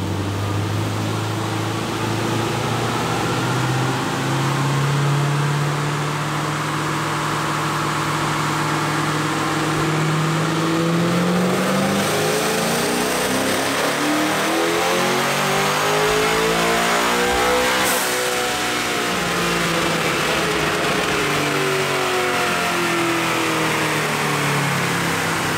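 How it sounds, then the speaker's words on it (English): A 650 HP twin-turbo Coyote V8 Mustang revs hard on a dyno, its loud engine note climbing steadily in pitch and then sweeping back down after a peak, with continuous turbo and drivetrain roar throughout. "we're gonna go for run number 2, and he's gonna give it a little bit more RPM"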